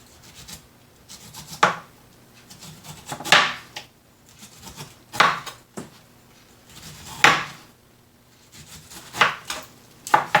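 A knife shaving the skin off a pineapple in regular strokes, each a sharp scraping rasp about every two seconds, close and clear against a quiet kitchen background.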